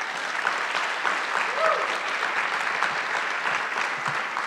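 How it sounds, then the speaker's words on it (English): A seated audience gives a steady, dense round of applause to welcome a director to the stage at a talk event, sustained and fairly loud throughout with faint voices mixed in. "Will you please join me giving a round of applause to welcome Cord to the stage?"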